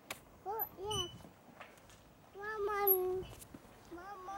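A cat in a park meows several times in drawn-out, wavering cries, with a pause between bursts, against quiet outdoor background noise.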